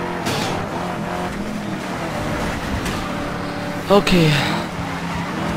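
Cars race in the Need for Speed Most Wanted video game, engines droning and revving continuously with passing whooshes, while someone talks over the action.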